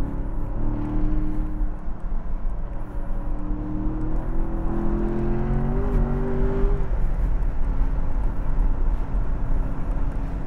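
Loud sports car engine roaring at Buttonwillow Raceway, heard from the cockpit as a sustained close drone with rising and falling revs through corners and a clear upward rev sweep midway.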